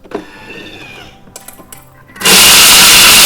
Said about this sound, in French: On va venir les mettre dans le mixeur. On vient rajouter la fleur de sel et hop,